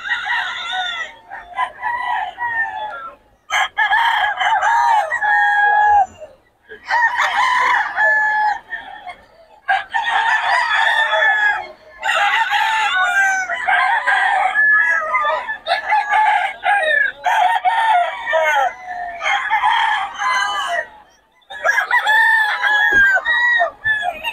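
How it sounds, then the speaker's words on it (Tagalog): Roosters and hens crow loudly again and again, long overlapping calls filling the air with only brief gaps between them. "Solid mga manok nito."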